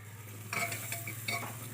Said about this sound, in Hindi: मैं आलू डालूँगी इसमें